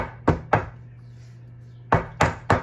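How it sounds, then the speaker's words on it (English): A cake pan of grapefruit pound cake batter is patted down on a kitchen counter: two sharp knocks, a pause, then three more, loud and close with a low hum beneath. "pat the pan on the counter to even out the batter and to let all the air bubbles out"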